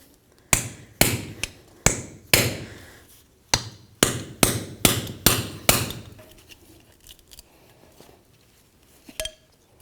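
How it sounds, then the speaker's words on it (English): A hammer strikes the rear wheel hub seal of a 1999-2007 Ford Super Duty F-250 with about ten sharp metallic bangs in a quick, uneven rhythm. The blows then stop and faint rattling follows. "We're going to come along this edge between the actual hub itself and the seal, give it a couple bonks and try to break it free."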